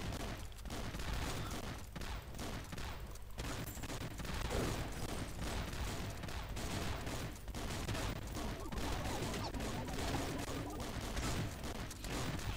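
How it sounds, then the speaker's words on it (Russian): Explosion of an atomic bomb in the mobile game Swamp Attack, a swamp defense shooter, heard inside a dense, continuous barrage of game gunfire and blasts that runs steadily loud throughout. "Так, атомную бомбу кидаем, ребята"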